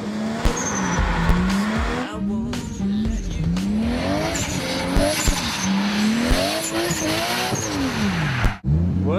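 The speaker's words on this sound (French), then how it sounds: "Notre internaute découvre le pilotage d'un pro du drift." A drift car slides through a run of turns with its engine rising and falling in steady waves and tires squealing loudly, close and continuous for about nine seconds before cutting out briefly near the end.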